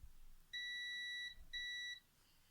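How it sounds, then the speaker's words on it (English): A multimeter in continuity mode gives two clean electronic beeps, the first longer than the second, with a short gap between them, alone against quiet background. "when there's continuity between 2 points, my multimeter produces a beep"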